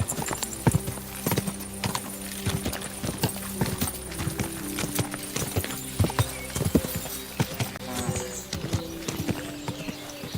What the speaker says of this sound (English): This must be the ugliest horse I've seen.